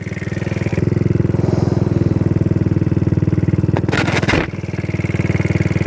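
A TaoTao Racer 50 small-displacement motorcycle idles close by with a fast, steady put-put pulse, briefly interrupted by a sharp clattering scrape before settling back into the even idle.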